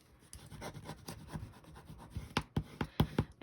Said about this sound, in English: And then I can fold that over and burnish it.